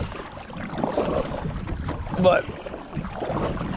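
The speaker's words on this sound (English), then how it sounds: "It ain't like this wind picking up." Wind gusting outdoors during a fishing trip on the water, a rough rumbling buffet that swells and fades over the microphone while someone says a word.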